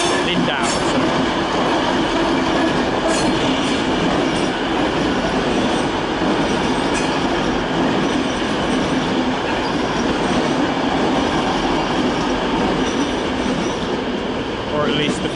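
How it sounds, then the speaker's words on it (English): A double-decker regional train runs past outside München Hauptbahnhof in the evening, a loud, steady rumble of rolling wheels and clattering cars that carries on throughout, with faint squeals and no break in the noise. "here's a regional service to Lindau Hauptbahnhof"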